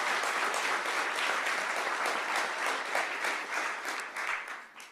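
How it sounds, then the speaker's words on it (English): A dense round of audience applause at a Howard University event, loud and steady with many hands clapping together, then tapering off near the end. "let's give them a round of applause for their support as well"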